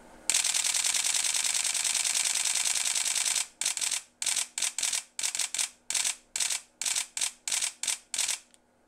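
A Canon 1D Mark IV camera fires its shutter at high speed, first as a fast continuous burst lasting about three seconds, then as a string of around fifteen short, crisp bursts, close and clear.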